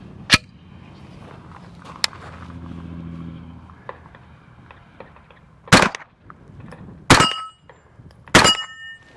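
Sharp gunshots from a CZ Scorpion 3+ pistol-caliber carbine fired with its stock folded: one early report, then a quieter pop, a pause, and three loud, separated shots near the end, outdoors with no talk.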